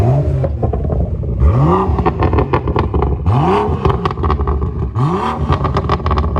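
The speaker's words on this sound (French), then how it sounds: "C'est en fait quand tu mets le mode traction, il te change le pop." A BMW M2 full-carbon fitted with a titanium exhaust, in traction mode, revs hard in three loud, rising blips, each ending in a crackle of pops and bangs, over a steady idle rumble at close range.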